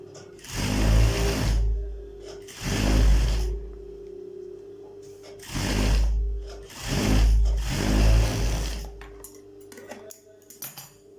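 Overlock sewing machine stitching fabric for a children's pillow, running in four or five loud, close bursts of rapid whirring separated by short pauses.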